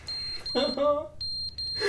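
A smoke detector chirps in short, repeated beeps at a steady pitch throughout, while people talk loudly over part of it.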